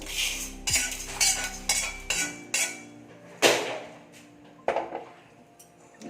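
Roasted rice scraped and tipped from a pan into a dish to cool, heard as a series of sharp metallic clinks and scrapes of a spoon against cookware, fairly close, with no talking.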